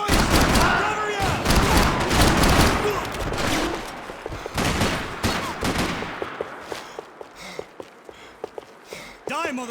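Dense, rapid automatic gunfire in the Max Payne 3 video game, loud bursts clustered early, then thinning to sporadic single shots and footsteps, with voices shouting over the fight.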